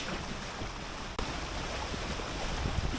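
Sailing yacht motoring under engine down a quiet rural stretch of water, with a steady rush of wind and water noise, a faint low engine drone beneath it and one brief knock near the start.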